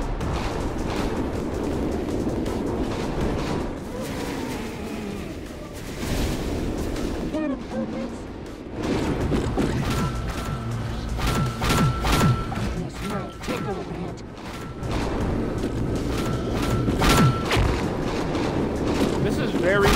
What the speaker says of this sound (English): Aim the cannon right at the worm.